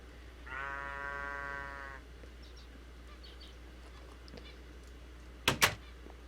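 A sheep lets out a single drawn-out, wavering bleat lasting about a second and a half in a quiet barn, followed by faint background rustles and two sharp knocks near the end.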